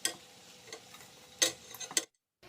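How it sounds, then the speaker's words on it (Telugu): Cooked, cooled basmati rice tipped into a kadai for mushroom pulao and stirred, giving soft scraping and clinking strokes with a faint sizzle, two sharper scrapes near the end, then sudden silence. "తర్వాత ఇందులోకి మనం ఉడికించి చల్లారబెట్టుకున్న బాస్మతి రైస్ని అయితే వేసుకోవాలి"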